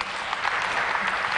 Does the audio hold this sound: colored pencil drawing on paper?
no